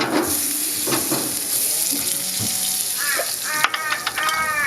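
Garlic and butter sizzling in a smoking-hot pan while cooking prawns, a continuous crackling fry heard close, with a few brief clinks and scrapes toward the end.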